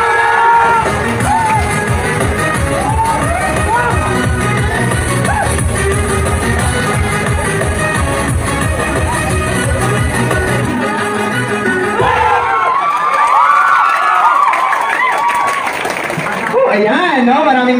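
A festival crowd at the Pag-alad Festival in San Fernando, Sibuyan, Romblon shouts, cheers and claps loudly and continuously, with whoops rising over the roar and voices mixed throughout.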